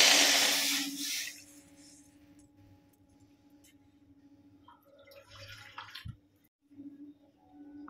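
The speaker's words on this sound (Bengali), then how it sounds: "আর একটু জল দিয়ে দেবো।" Water is poured into flour for soft roti dough, a brief broadband splash at the start that fades into quiet, with faint clinks and a low hum after.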